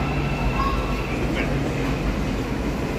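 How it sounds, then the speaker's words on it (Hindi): A train pulls into a station platform, its steady low rumble and rolling rail noise filling the scene at close range with no voices. "ट्रेन अब पहुँच आई है, अब ये फ़ौरन से डोर खुल जाएंगे।"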